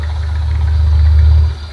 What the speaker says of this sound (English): The tractor is out to convert corn fields into rice producing farms.